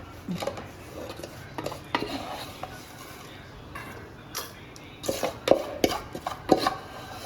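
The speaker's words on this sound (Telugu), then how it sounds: "ఇప్పుడు ఇది స్టవ్ ఆఫ్ చేసేసి ఒక బౌల్లోకి ట్రాన్స్ఫర్ చేసుకోవడం." A spoon scrapes and clinks against a pot and bowl as a warm ragi sweet made from milk cream is moved off a switched-off stove into a bowl, giving scattered close clatters and taps with no talking.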